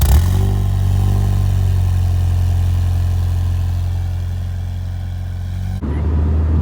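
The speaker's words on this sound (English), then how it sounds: "Today we're going to be taking a look at my friend's 1997 Honda Civic Del Sol SI, and we're going to get in and drive it right away" A 1997 Honda Civic Del Sol Si engine drones steadily and loudly from start to finish while the car is driven, a constant low hum with a brief dip near the end.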